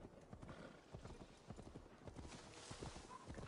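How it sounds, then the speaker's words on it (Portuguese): Horse hooves clip-clop in a steady rhythm in Assassin's Creed Valhalla, close and fairly loud, with a brief whinny and some faint voice-like sound in the background. "Vamos devolver o cavalo."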